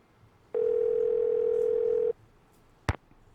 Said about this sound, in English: Well, it says it's ringing this time.